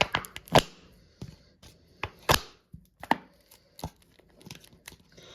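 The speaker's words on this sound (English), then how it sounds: "I'm going to cut the bottle." A CRKT Minimalist knife slicing into a plastic bottle, giving a series of sharp irregular cracks and crinkles of tearing plastic, close up and without speech.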